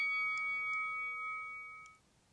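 A timer bell in a HIIT exercise class rings once, a clear tonal ding that sustains for about two seconds and then fades, with no talk over it.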